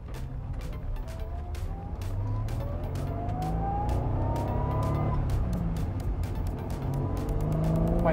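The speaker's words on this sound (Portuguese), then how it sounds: "é tão suave o motor" Yellow Honda NSX engine running smoothly while driving, a steady close drone with rising rev sweeps as it pulls up toward about 5,000 rpm, continuous throughout with no talk over it.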